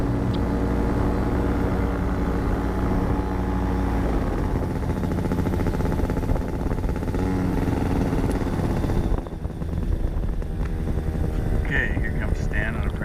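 Paramotor engine droning during a practice approach, a loud continuous buzzing hum that holds steady before dipping briefly and returning, with a voice talking over it.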